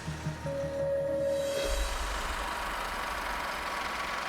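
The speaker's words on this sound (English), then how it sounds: "The engines start to turn." Two coupled heavy haulage truck cabs, hauling a 254-ton mining excavator, roar to life partway through. Their engines swell into a loud, steady low rumble after a quieter stretch, with no talking.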